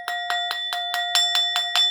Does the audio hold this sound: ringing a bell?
yes